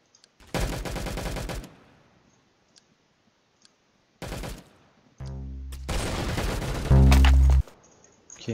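Bursts of automatic gunfire from a Roblox game, several separate volleys of rapid cracking shots with short quiet gaps between them, loud and close, the last burst heaviest and booming.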